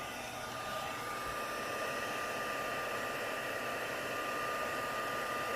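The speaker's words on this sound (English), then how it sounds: "So I'm going to bring in my heat tool. It's nice and warm." Embossing heat tool blowing hot air over a stamped paper card, a steady, loud, continuous whoosh of fan and airflow that holds at one level throughout with no talking.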